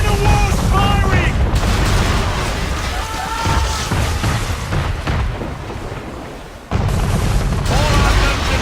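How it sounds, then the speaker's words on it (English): Man-of-war ship cannons booming in a sea battle in Assassin's Creed, heavy low rumbling blasts rolling continuously with a sudden loud burst near the end, under shouted voices. "We're under attack! Man of war's firing!"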